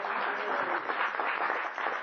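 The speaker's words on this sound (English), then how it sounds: "Give yourselves a big round of applause." Applause from a group, filling the whole short stretch as a steady, even wash of many hands at moderate loudness, with no voices.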